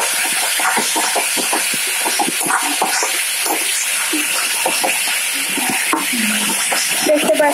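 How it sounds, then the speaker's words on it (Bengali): Spices and oil sautéing in a pan for a Bengali chana potol alur dalna, a continuous bright sizzle and hiss with scraping stirring strokes, close and steady throughout. "কষাতে কষাতে যখন দেখবেন একটু তেলটা ছাড়ছে"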